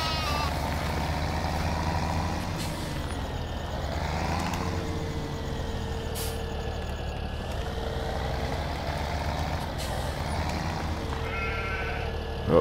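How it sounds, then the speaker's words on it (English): Sheep bleat several times in a Farming Simulator 17 farm scene in the Tautoro District, the calls repeating over a steady engine-like rumble of a vehicle. "Oh, that sheep's coming for a bit of a ride."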